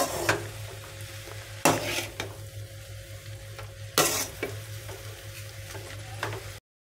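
Fried egg is stirred into noodles in a hot pan. Steady sizzling runs underneath, broken by about four loud scraping strokes of the spatula before the sound cuts off.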